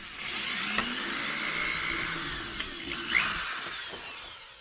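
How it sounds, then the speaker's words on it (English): A power drill whirs steadily at close range, pre-drilling a hole with a 1.5 mm bit in a 3D-printed bed for a Traxxas TRX6 RC truck, its pitch shifting slightly as it bites, with a few small clicks and knocks. "we're going to go ahead and pre-drill this first hole"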